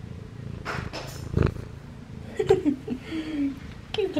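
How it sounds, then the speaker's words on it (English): A cat purrs softly up close, with a few light bumps and small sounds mixed in. "Now she's purring."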